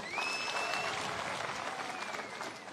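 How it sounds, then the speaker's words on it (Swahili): A crowd at a church gathering in Kenya applauds with steady, dense clapping that holds at full strength for the whole stretch and fades slightly toward the end. "Watu hapa heshima yake ni makofi nisikie"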